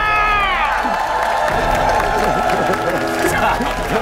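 Studio audience on a Korean variety talent show cheering and applauding a successful challenge, a loud, continuous roar of shouts and whoops with clapping underneath, voices rising and falling over the din.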